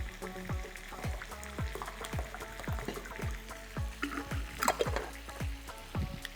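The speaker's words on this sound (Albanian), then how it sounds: "specat janë skuq, janë fërgu" Stuffed red peppers filled with cottage cheese sizzle and crackle steadily in hot oil, with repeated sharp pops and spits spread across the whole stretch and no voices.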